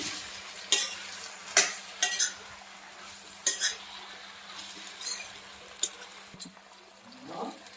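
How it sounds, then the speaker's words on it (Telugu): A spoon stirs brinjal curry in a pan after the cut brinjal is added, giving several separate scraping and clinking strokes over a faint steady sizzle, with no talk. "వంకాయలు అయితే యాడ్ చేస్తున్నానండి ఒకసారి మొత్తం కలుపుకున్నాము"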